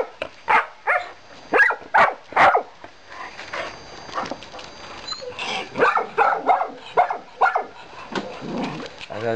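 Dogs bark in loud, repeated bursts at a swimming pool, several sharp barks in quick succession, then a looser run of barks and yips with brief pauses between them.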